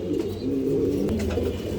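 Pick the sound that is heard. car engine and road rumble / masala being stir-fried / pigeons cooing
pigeons cooing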